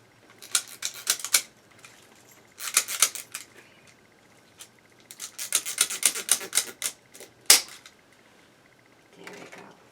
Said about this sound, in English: Zip tie gun.